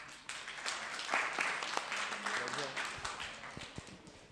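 An audience at a Jeevan Vidya camp session claps, a brief, moderately faint patter of applause in a room, mixed with a voice and fading after a couple of seconds.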